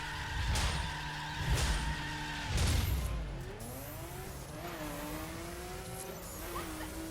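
Nissan Skyline race car in The Crew, engine revving and shifting through rising gear sweeps as it overtakes, with a few thumping impacts early on; fairly loud and close, no talking.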